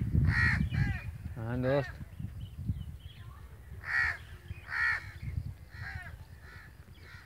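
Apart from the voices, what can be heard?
crows cawing overhead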